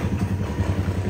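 A motorcycle engine rumbles steadily as it passes a CCTV camera, a low mid-pitched drone with a slight pulsing throb, fairly close and without talk.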